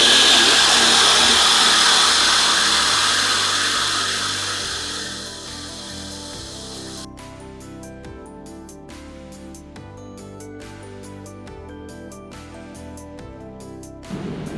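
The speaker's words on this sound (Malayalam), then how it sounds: "മിക്സ് ചെയ്താൽ ഇത് ചോപ്പറിലാണ് ചെയ്യുന്നത്." An electric food chopper whirs loudly while mincing half a kilo of boneless chicken, its motor tone dropping and settling as the meat breaks down, then steady whirring continues alone.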